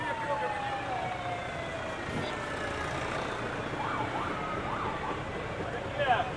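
Sirens of civil defence vehicles wail in a rising and falling pattern at a 14 August flag ceremony outside the commissioner's house in Faisalabad, moderately distant beneath crowd noise and voices.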